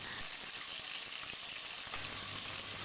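Fish fries in a pan with a quiet but steady hiss and crackle, a faint sizzle running unbroken from start to finish with no talking.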